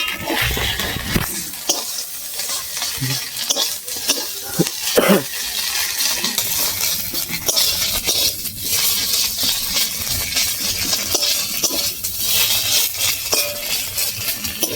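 Bottle gourd leaf paste frying in oil crackles and sputters densely and continuously, with sharp clicks of a spatula scraping the pan scattered throughout, close and fairly loud with no talking.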